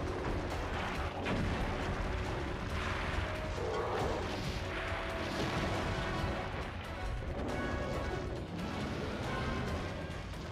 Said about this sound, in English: Okay, it breathes a lot of fire.